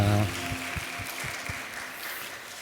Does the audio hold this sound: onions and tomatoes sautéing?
no